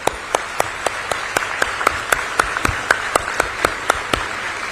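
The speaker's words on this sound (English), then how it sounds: "So please give them a big round of applause" Audience at a university convocation clapping in a steady, rhythmic unison beat, evenly spaced claps ringing through a large hall for several seconds with no talk.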